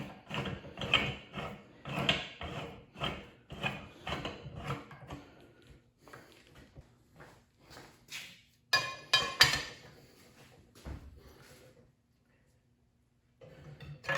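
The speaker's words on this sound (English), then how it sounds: "I'll go ahead and fully tighten up these lugs here so we know that we're dead center" Wheel lug nuts tightened on a Harbor Freight tire changer fitted with a Lucid adapter, heard as a run of close mechanical ratcheting clicks and metallic clanks in bursts, pausing and then resuming, with no talking.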